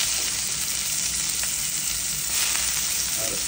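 Garlic and onion frying in a pan while vegetables with soybean are being cooked, giving a steady, close hiss of sizzling oil that runs evenly throughout with no talk over it.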